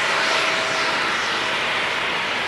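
A large passenger airplane's engines roar loudly and continuously nearby at Fukuoka Airport, a dense, steady wash of noise with a faint whine running through it.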